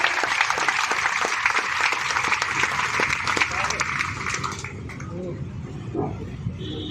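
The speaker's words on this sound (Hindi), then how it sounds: "एक बार जोरदार तालियां बजाकर प्रधान जी का स्वागत अभिनंदन करो साथियों" A crowd at a welcome event for a state union leader in Hisar bursts into dense applause, which holds strong for several seconds and then tapers off as scattered claps and voices take over.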